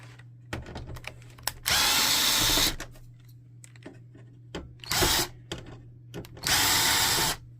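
Short bursts of a small electric screwdriver with a security Torx bit backing screws out of an HP ENVY 7858 printer control panel, three loud whirring runs separated by clicks and handling, over a low steady hum.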